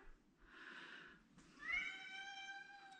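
A house cat indoors in Alaska gives two faint meows, a soft breathy one followed by a longer, rising, tonal meow over quiet background noise.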